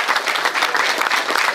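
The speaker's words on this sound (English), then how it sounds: "let's give a round of applause to all the families here today that have made this happen" A crowd at a ceremonial bill signing applauds the families present, continuous brisk clapping from many people filling the room, loud and even from start to finish.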